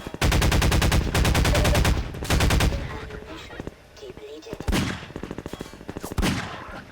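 Rapid bursts of gunfire from the video game Half-Life 2, loud and repeated, with automatic volleys early on and scattered single shots later.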